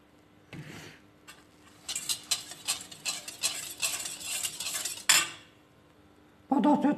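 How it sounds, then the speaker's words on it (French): A whisk beats liquid cream into flan pâtissier batter in a bowl, giving rapid, uneven metallic clicking and swishing bursts that start after a quiet pause, then stop with a clatter before a final burst of whisking. "Mettre 20 centilitres de crème liquide doucement et fouetter"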